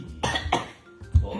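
Two or three harsh coughs sound close up in quick succession, loud and abrupt, with a short pause before the last one.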